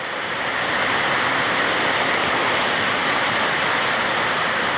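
Heavy rain pours down steadily near a Hanuman temple, a dense, even hiss that swells in the first half second and then holds loud and unbroken, with no voices.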